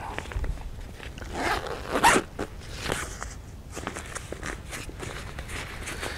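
A backpack pocket zipper on an Osprey Atmos 65 AG pack is pulled along in several quick rasping strokes, close and fairly loud, with soft handling rustles between them.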